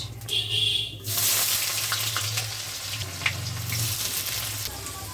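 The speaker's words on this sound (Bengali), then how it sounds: "পেঁয়াজটা লাল করে ভেজে নেব" Onions fry in hot oil with cumin and dried chilli for a mutton curry, giving a loud, steady, close sizzle, with a brief clink partway through.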